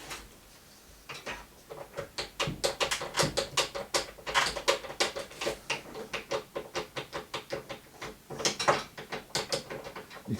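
Loose shaft and worn bearings of a cheap Einhell cordless table saw clatter in a quick run of close, dry mechanical knocks and ticks as the shaft is wiggled back and forth by hand.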